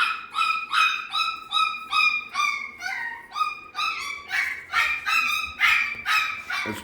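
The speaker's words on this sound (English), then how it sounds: "I just want to make sure these other puppies aren't getting too aggressive with each other." Week-old tri-colored puppies squeal and yip in a rapid, rhythmic series of high-pitched cries, close and fairly loud, with no talk.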